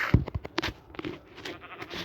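Sheep bleating in the Minecraft video game, a short bleat near the start amid a string of clicky game sounds and block-placing taps, fairly loud and close.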